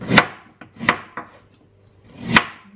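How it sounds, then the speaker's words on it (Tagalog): Sharp knife strokes slicing ginger into small pieces on a cutting board, three distinct chops with a couple of lighter taps between, close and crisp with quiet gaps. "Yung ginger, maliit yung hiwa ko kay kinakain namin yan."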